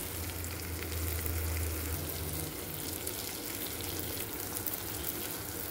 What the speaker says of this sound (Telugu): ఇప్పుడు మనము ఫ్రై చేసి పెట్టుకున్న ఈ ఎగ్ పీసెస్ ఇందులో వేసేసుకుందామండి.